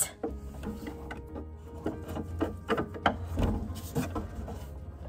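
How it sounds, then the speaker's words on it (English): A screwdriver works screws out of a thrifted farmhouse-style wooden sideboard, giving close, irregular creaks, clicks and mechanical turning noises with small knocks on wood. "these screws aren't as tight as the ones from 2 weeks ago, so maybe I can use a screwdriver"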